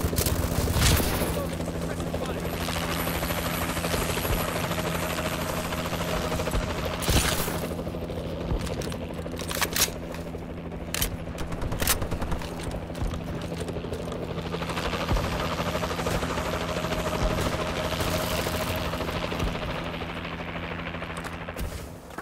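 Warbird aircraft support in Call of Duty: Advanced Warfare multiplayer, a steady heavy rotor-like drone running throughout with scattered bursts of automatic gunfire and sharp shots over it, with voices at times.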